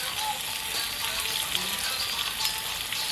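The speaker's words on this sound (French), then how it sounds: "je vais mettre les beignets à cuire" Semolina-coated sardine fritters frying in a small pan give a steady, close sizzle of hot oil, constant and even throughout with no voices over it.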